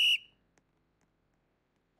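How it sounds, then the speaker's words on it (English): One short, sharp referee whistle blast rings out at an AMHL hockey game between the Dartmouth Whalers and Detroit Diesel, then cuts off into near silence. "That's a good time to have the whistle blown."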